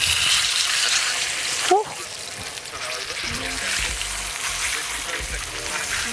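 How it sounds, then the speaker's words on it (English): Steak sizzles loudly in a hot pan, a dense crackling hiss that surges after a brief clatter and keeps frying steadily. "Did you guys hear that sizzle"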